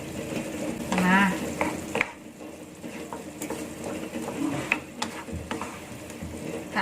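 Tuna curry filling for pastel puffs being stirred in a frying pan, with soft scraping and a gentle sizzle, a few utensil clicks against the pan, and brief talk near the start.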